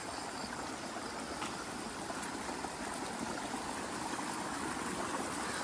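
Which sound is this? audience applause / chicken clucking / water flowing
water flowing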